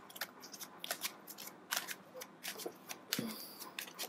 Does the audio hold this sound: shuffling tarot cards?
yes